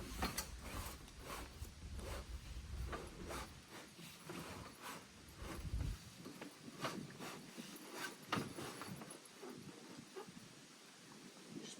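A metal bar on a triangle rooftop tent is pushed out through its swivel brackets, producing a long run of close, ratcheting clicks, rattles and mechanical knocks.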